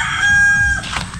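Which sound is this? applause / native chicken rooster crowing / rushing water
native chicken rooster crowing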